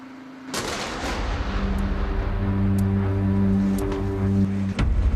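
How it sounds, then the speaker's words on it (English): A single sharp, heavy blast from a tank shell hitting an office building in Iraq bursts out, followed by a sustained roaring rumble with a steady low mechanical hum underneath. "this is basically the tank shell that hit our office"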